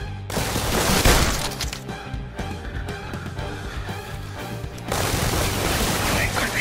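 Rapid gunfire in The London Heist VR shooter, dense bursts of shots that continue throughout, heaviest at the start and the end, with a game soundtrack behind.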